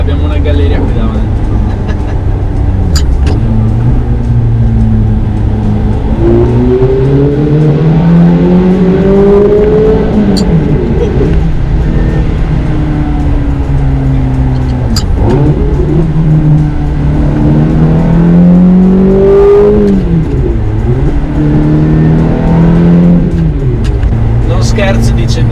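A manual six-speed Ferrari F430 engine revs and climbs through the gears inside a tunnel, loud and booming with rising and falling pitch, under steady road rumble and someone talking over it.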